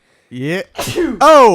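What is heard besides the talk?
sneeze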